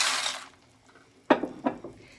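Pasta tipped into a pot of boiling water salted and oiled, a rushing pour that fades, then a couple of close clattering splashes and knocks against the pot.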